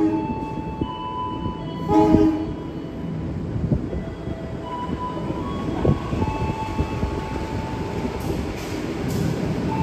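The Tawang Alun passenger train, KA 264 from Ketapang Banyuwangi to Malang, rolls into a station on the Indonesian railway, its horn blaring loudly early on, wheels rumbling and clattering as it passes close by.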